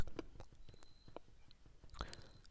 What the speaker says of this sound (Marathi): आता या शेळ्या मस्त आवडूनच खात्या ती